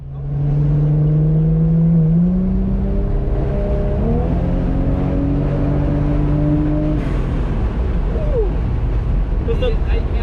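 A car accelerating hard on a race track during an amateur track day, its engine note climbing loud and close through several rising gear pulls before easing off, with people talking over it.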